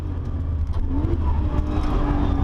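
A Nissan GT-R Nismo race car accelerates hard from the start of a timed lap at the Nürburgring in R mode, a loud continuous engine roar with rising tone heard close up, with no talking.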